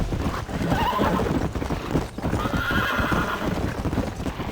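Several horses gallop hard in the Red Dead Redemption western video game, their loud rapid hoofbeats drumming in a steady rhythm with neighs and whinnies breaking through close by.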